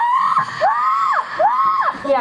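A yellow-naped Amazon parrot at a zoo bird show gives a series of loud, close, rising-and-falling screeching calls, three or four in quick succession.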